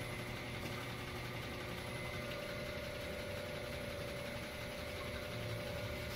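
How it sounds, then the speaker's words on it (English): Vacuum deposition chamber being vented, air hissing in as it returns toward atmosphere while a diffusion pump setup with its roughing pump keeps running, giving a steady, loud broadband rush over a constant low mechanical hum, no talking. "you can hear it's letting in air right now."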